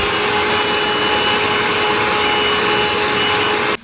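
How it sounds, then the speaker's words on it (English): A vacuum cleaner runs steadily and loudly aboard a narrowboat, a constant broadband roar with a faint steady whine, cutting off abruptly near the end. "Go get the hoover, Mr. Warner."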